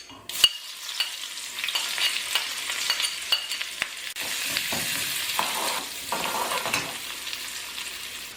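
Chopped onion, ginger and green chilli hitting hot oil with mustard seeds in a pan for chicken upma, a steady loud sizzle with scraping stir strokes and crackles throughout, no talking.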